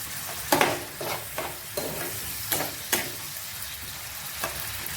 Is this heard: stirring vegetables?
yes